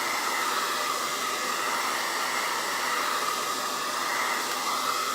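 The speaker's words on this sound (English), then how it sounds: "Vicky, this is just a regular blow dryer." Ordinary hair dryer blowing steadily, a loud, even whoosh of air with a faint motor whine, running alone without pause.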